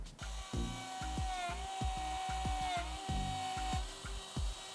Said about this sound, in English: Initially I'm going to start routing about 1/4 inch deep into the top